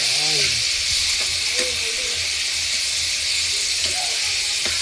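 Chopped tomatoes hiss and sizzle loudly in a frying pan, a steady broad steaming roar close by with faint scrapes and a brief voice at the start.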